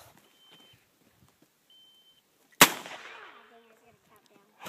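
A toy gun fires a single sharp crack that rings out and fades, loud and close after a stretch of near quiet with faint background voices.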